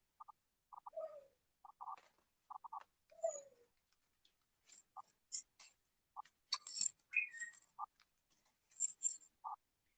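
Pet parrot imitating pigeon coos outdoors, soft repeated cooing phrases in short bursts separated by pauses, mixed with a few higher squeaks and chirps, close and fairly quiet.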